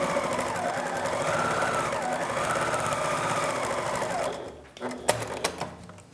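A sewing machine runs a steady, rapid stitching seam through layered mask fabric, close and continuous for several seconds, then stops, leaving a few brief clicks and handling noises.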